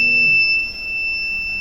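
A small buzzer powered by a homemade DC motor generator emits a thin, steady high-pitched electronic tone that holds nearly unbroken over low background rumble.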